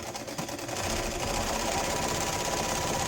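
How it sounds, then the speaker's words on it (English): A sewing machine straight-stitches along the raw edge of a crocheted shower flower loofah, starting after a brief pause and then humming continuously, loud and close. "I'm going to stitch along that raw edge just to finish it off. And I'm going to go back to a straight stitch."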